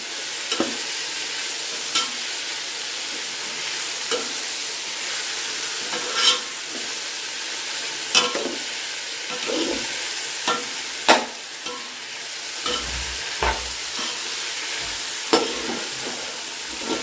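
Vegetables for vegetable brinji sizzle steadily in a hot pan while a utensil scrapes and stirs at irregular intervals, close and continuous.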